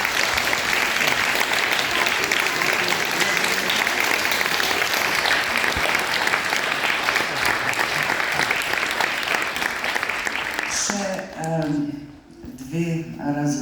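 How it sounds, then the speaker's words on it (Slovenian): Loud, dense audience applause at a Karitas charity concert, sustained for about eleven seconds before fading, followed by a voice speaking. "mislim, da si zaslužijo en aplavz"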